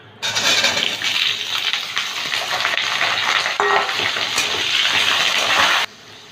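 Potatoes go into hot oil with dried red chilies, bay leaves and cumin. A loud, continuous sizzle rushes up right away and holds steady close by, then cuts off abruptly near the end.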